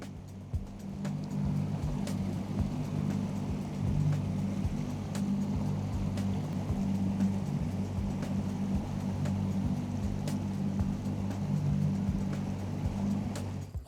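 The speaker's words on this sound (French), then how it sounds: "Grâce à son puissant bateau, il remonte aisément le courant de la Loire." A powerful boat motor drones steadily and close as it runs upstream on the Loire river, a deep continuous hum with water noise beneath, never letting up.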